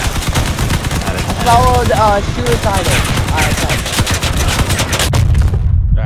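Dense, continuous rapid gunfire and blasts from the vehicle combat video game Crossout, loud and unbroken throughout, with a player talking briefly over the battle noise.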